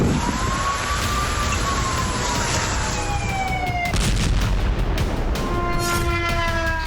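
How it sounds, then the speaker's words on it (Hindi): Air raid sirens wailing in Russian cities in long rising and falling tones, several overlapping at different pitches, over a constant low rumble of background noise. "शहरों में सायरन बज रहे हैं।"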